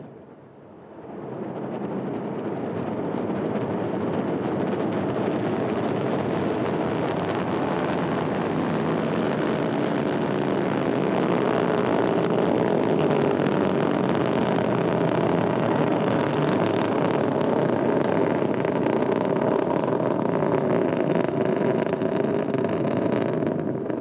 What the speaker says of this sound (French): Allumage Vulcain, allumage des EAP et décollage.